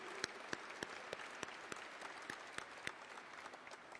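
A sparse round of applause for the parade organizers at a Veterans Day breakfast, faint and distant, with individual sharp claps standing out against a softer patter.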